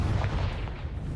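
Confringo fire spell blast cast in Hogwarts Legacy, a single booming, rumbling burst with heavy low-end roar sustained through the moment, ending with a sharper crackle.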